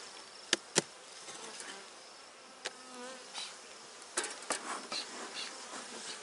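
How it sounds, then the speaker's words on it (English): Honeybees buzz around a hive during requeening, a soft, wavering hum with individual bees droning past close by, punctuated by a few sharp knocks. "A couple things I'm noting is that the bees are a little bit calmer"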